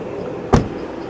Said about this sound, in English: About to close all the doors and show you the exterior.